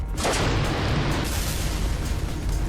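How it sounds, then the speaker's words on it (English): Rocket launcher firing and detonating in a video game, a dense roaring blast that stays loud and sustained, with heavy low rumble throughout. "Rocket launcher."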